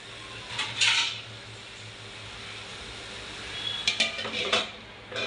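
Metal lid set on a cooking pot of black pea curry or drumstick-leaf vegetable in a home kitchen, with a clatter early on, then a few more metallic knocks and scrapes toward the end over a low background hum.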